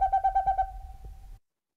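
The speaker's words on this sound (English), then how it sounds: "The Boreal Owl is also nocturnal, so it will be roosting during the day, so you're more likely to hear it than see it in the night." A Boreal Owl gives a rapid series of evenly spaced, clear tooting hoots that trail off into a softer tail and then silence.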